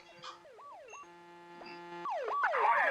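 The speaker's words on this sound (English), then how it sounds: "I love that air horn." In a video game, an emergency vehicle siren wails up and down, broken by a single sustained, blaring air horn blast, then the siren resumes, growing louder.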